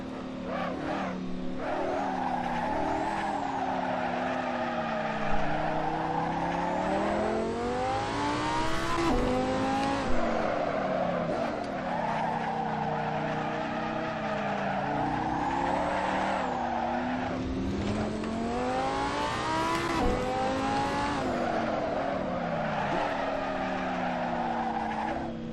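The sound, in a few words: Lamborghini Superleggera race car driving in Assetto Corsa video game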